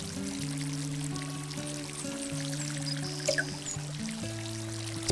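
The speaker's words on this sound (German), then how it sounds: "Gießen wir mal wieder." Water pouring from a watering can onto plants in a garden simulator video game, a soft steady trickle under sustained synthetic game music tones, no talking.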